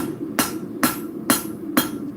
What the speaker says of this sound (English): I'm not swinging really hard on my hammer.